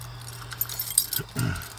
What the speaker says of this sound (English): I have a bajillion keys.